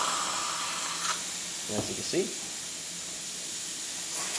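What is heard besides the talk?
steam wand hissing on a vintage La Pavoni espresso machine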